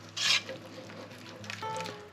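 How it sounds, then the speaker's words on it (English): A spoon stirs a sawmill-style white gravy in a pan, making a brief close scrape followed by soft rubbing and faint sizzling in a short, quiet moment. "Stir that in."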